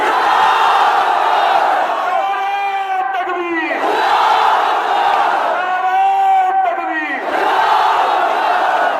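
A large rally crowd roars a chanted response to the Nara-e-Takbir slogan, two long massed shouts swelling and falling, loud and close, filling the whole stretch.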